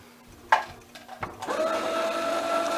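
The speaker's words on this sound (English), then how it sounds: "In this case, we want to wind the bobbin." A sewing machine winds its bobbin: a few mechanical clicks, then a steady, close motor whir with a bright humming tone that runs evenly to the end.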